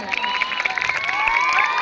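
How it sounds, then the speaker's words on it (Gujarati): An audience at a primary school Republic Day event cheering and shouting in honor of donors, a loud crowd with children's voices and scattered whoops filling the whole moment. "આપણે બે હાથની તાળીઓ પાડીને આવા દાતાઓનું સન્માન કરી શકાય"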